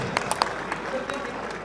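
Applause from an audience at a Punjabi stage gathering of songwriters, a dense, steady patter of many hands with a few sharper claps standing out, heard alone and continuous.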